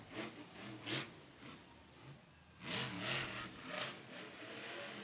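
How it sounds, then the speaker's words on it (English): A monster truck engine at a stadium event rumbles faintly in the distance, with a couple of louder surges over a wash of crowd and arena noise. "Oh, I heard a pop in the motor right there."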